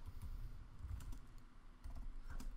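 Rapid, irregular clicking of keys on a computer keyboard, faint and close, with no voice over it.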